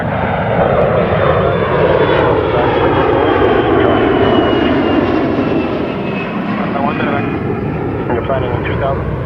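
An aircraft taxis along taxiway Hotel toward the terminal at Toronto Pearson Airport, a loud, steady engine roar that runs without a break, with radio chatter faintly underneath.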